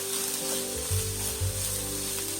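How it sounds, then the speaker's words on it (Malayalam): Small onions sizzling in hot oil as they are fried and stirred in a pan for a quail egg curry: a steady, close frying hiss with a couple of soft stirring thumps, no voices. "ഇതൊന്ന് നന്നായിട്ട് നമുക്ക് ഇളക്കി പച്ചമണം മാറുന്ന വരെ ഒന്ന് മൂപ്പിച്ചെടുക്കാം."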